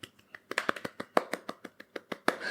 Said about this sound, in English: Okay, golf clap.